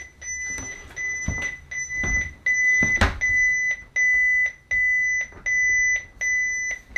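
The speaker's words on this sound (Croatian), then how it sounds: "GPS je ugašena, stanica je upaljena pa nema signala pa pišti." A marine radio station aboard a Jeanneau 449 Sun Odyssey sailboat beeps repeatedly because the GPS is switched off and it has no signal; steady, evenly spaced loud tones with a few knocks and thumps between them.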